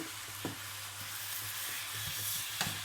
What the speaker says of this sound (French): je mélange ma viande